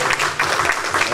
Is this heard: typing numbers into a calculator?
no